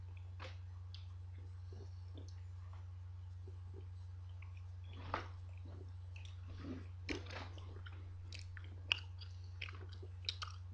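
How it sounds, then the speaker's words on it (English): Someone chews sour food close to the mic: soft wet smacks and small crunches, irregular and faint, over a steady low electrical hum. "This is my chewing section."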